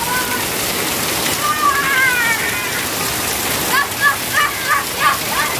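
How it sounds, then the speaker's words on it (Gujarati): A heavy downpour in the Bodeli area rushes and splashes continuously up close, loud and dense, with a voice speaking over the rain and a few high chirps or calls near the end. "વરસાદ ચાલી રહ્યો છે, પ્રેશર સાથે તમે જોઈ શકો છો ચારે બાજુ ધોધમાર વરસાદ છે"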